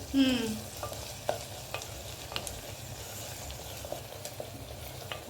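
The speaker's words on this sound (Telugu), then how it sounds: "ఆనియన్స్ చూడు వేగుతున్నాయి కదా" Onions frying in a pan for goruchikkudu pulusu, a steady close sizzle with light stirring scrapes and occasional utensil taps throughout.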